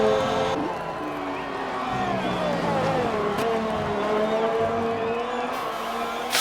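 A McLaren Formula 1 car on a fast lap in a racing game at the Austrian circuit, its high engine whine rising and falling with gear changes, loud and continuous, with commentators talking over it.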